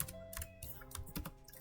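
Keystrokes on a computer keyboard while editing a Debian server config file, several quick close clicks in an uneven rhythm, including a few firmer key presses.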